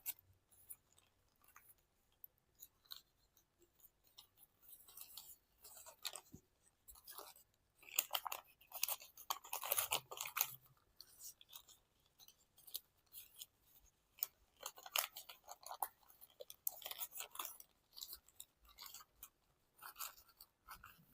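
Crisp origami paper being folded and creased into an octopus base, with rapid crinkling, rustling and sharp creasing snaps coming in irregular bursts, close and quiet.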